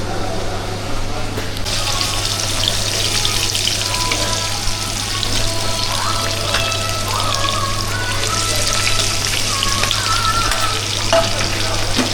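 Food frying in a pan gives a steady, loud sizzle and crackle throughout, with occasional stirring scrapes and a low constant hum underneath.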